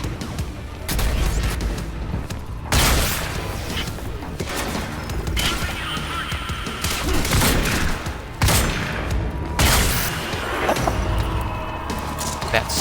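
Heavy gunfire and explosive booms from the video game Quantum Break on Xbox One X, loud bursts recurring through the clip with game sound underneath and someone talking over it.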